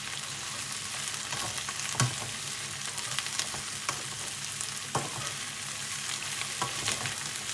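Mushrooms frying in oil for a homemade vegetable stir fry, a steady crackling sizzle running throughout with a few sharper pops and stirring clicks, close and moderately loud, no voices.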